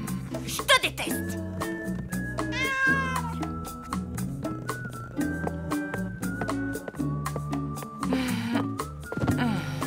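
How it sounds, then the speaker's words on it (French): A cartoon cat from the French animated series Lou! meows repeatedly in drawn-out, tonal cries mixed with musical sounds, loud and close throughout. "c'est un bon chat, ça"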